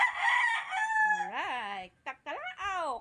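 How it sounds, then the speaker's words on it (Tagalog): A nearby rooster crows loudly in a rural Filipino yard, one long wavering call followed by a shorter broken second crow, with no voice over it. "Alright, tatalaok."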